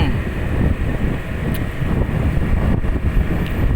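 Wind roars against the microphone while riding fast along a road through green, waterlogged rice fields, a loud, constant buffeting rush with brief gusts and no clear talking.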